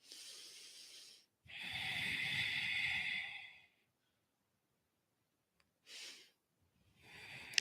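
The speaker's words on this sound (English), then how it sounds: "Maybe you've activated your Ujjayi breathing already." Slow Ujjayi breaths, exhaled through the nose during a Pilates flexibility and balance flow. Long, close, airy hissing breaths with a steady ocean-like rasp are separated by silent pauses, and a shorter breath follows near the end.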